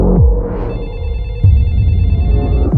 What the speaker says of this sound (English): Hey, baby, your phone is ringing.